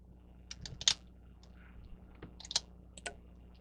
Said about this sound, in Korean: 여기서 이거를 M 버튼 누르고 클릭하고